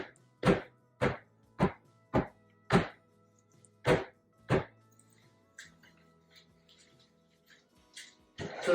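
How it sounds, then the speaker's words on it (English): A soap mold filled with milk and honey cold process soap is banged on a work surface, eight loud, evenly spaced thuds followed by quieter fumbling and small knocks, with one more thud at the end. "Now I'm going to bang it."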